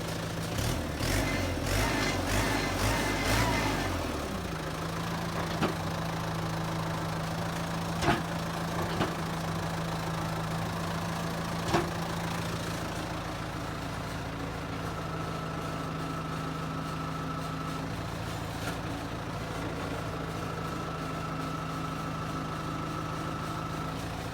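A Kubota M7040 tractor engine clatters loudly at first, then settles into a steady low idle with a rhythmic chug and occasional clicks, heard close with no talking.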